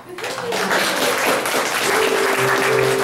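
An audience applauds and cheers at a stage musical, steady clapping mixed with whoops and crowd voices, loud and sustained throughout.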